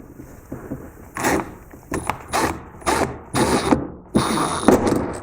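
Bursts of ratcheting, rasping mechanical noise come from a screw being driven into a mud guard on a BMW M2, loud and close, in irregular turns separated by short pauses.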